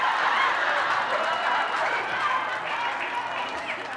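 A live audience at a Southern comedy show laughs and claps steadily throughout, a dense crowd roar of applause and laughter with no break.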